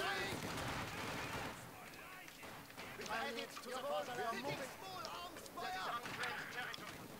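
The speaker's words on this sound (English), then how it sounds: "I've got mortars coming in." Mortar shells land in a Company of Heroes 2 multiplayer battle, a series of muffled blasts and crackling bursts amid ongoing gunfire, with players talking over the din throughout.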